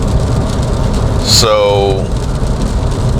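Steady rain hisses around a 2025 Porsche 911 GTS with a sunroof, driving on wet roads, a constant wash of water noise heard from inside the car as a voice speaks briefly.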